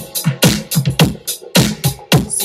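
House track on DJ equipment pushed faster and slower with the jog wheel, giving punchy kick drum and percussive hits in an uneven rhythm, loud and close, with no talking.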